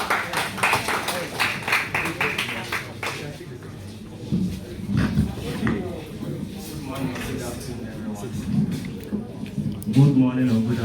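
Audience applause at a student project presentation event, a burst of clapping from many hands in the first few seconds that fades out, followed by a voice speaking to the room.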